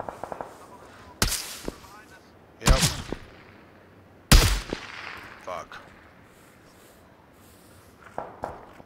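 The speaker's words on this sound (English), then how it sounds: "I'm getting shot at." Gunfire in the battle royale game PUBG, several sharp, loud shots spaced a second or so apart with rolling echo tails, followed by fainter distant pops, heard alone.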